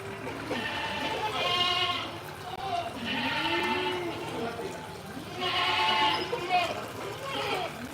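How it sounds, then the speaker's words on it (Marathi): Goats in a goat-farming shed bleat loudly for fodder, repeated drawn-out calls in three or four clear bursts, close by, with a person talking underneath. "तर आता शेळ्या वैरण म्हणून ओरडायलेत"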